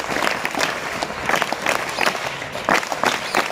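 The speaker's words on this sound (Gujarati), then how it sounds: "તાળી પાડશો?" Students in a high school gathering clap their hands together in a lively burst of applause that lasts the whole stretch, a dense, uneven patter of many hands, fairly loud and close.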